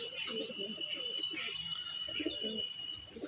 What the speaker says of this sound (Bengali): চলুন পায়রাটা ছেড়ে দেখাচ্ছি দেখুন